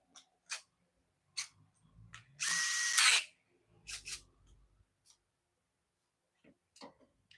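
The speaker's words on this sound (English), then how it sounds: "that was just a 1/4-inch adapter chucked into a drill" A power drill with a 1/4-inch adapter chucked in it gives one short, loud whirring burst of under a second while work is done on a Jeep Wrangler. Sparse light clicks and taps come before and after.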